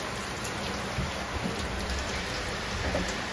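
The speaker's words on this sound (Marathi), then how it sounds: "आणि आलेला आहे पाऊस जोरात." Heavy rain pouring down during a power cut, a dense constant hiss of drops striking surfaces with a few louder patters, no voices.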